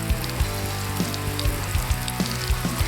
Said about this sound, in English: you should hear that sizzle, letting you know that the pan is hot